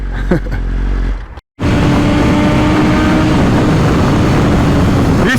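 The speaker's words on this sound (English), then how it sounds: "there's no denying the sound of that V4 engine" Ducati Multistrada V4 RS motorcycle with its V4 engine, a loud sustained engine roar from close by that cuts out briefly, then returns as a steady, strong drone with a tonal whine while riding.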